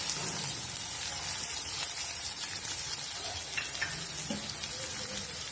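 Thinly sliced onion fries in oil with mustard seeds, producing a soft, continuous sizzle with scattered faint pops, fairly quiet and steady throughout.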